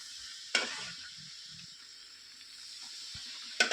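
Mysore pak mixture being stirred in an oiled pan, a steady soft hiss and sizzle with a couple of sharp scraping strokes and faint low knocks of the spoon against the pan.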